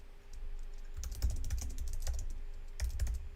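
Fingers type on a computer keyboard nearby in quick irregular bursts of clicks, with a short pause between runs and no speech.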